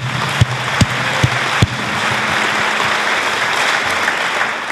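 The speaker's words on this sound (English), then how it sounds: "Yeah, we can clap for them." An audience claps for speakers Amy Goodman and Helen Caldicott at an event, a dense, loud wash of applause with a few sharp nearby claps early on.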